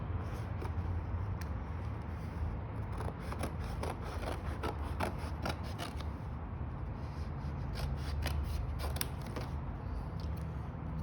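Scissors snip through cereal-box cardboard, trimming off the box flaps while making a mask: a run of close, dry creaking cuts and crisp snips over a steady low background hum, with no talking.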